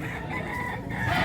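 A gamecock offered for sale at a poultry market in Mantalungon, Cebu crows in a short, rough burst close by, with clucking fowl around it.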